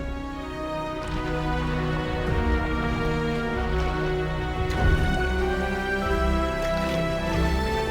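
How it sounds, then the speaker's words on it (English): Rain patters steadily onto open water around a paddleboard, a dense, continuous hiss of drops at moderate loudness with no talking. "Out there, we're getting some rain."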